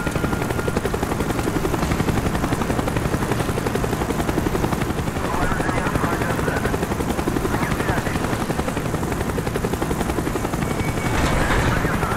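A helicopter hovers overhead in the Call of Duty: Black Ops mission Rebirth, its rotor producing a loud, continuous thumping drone that holds steady for the whole stretch with no voices over it.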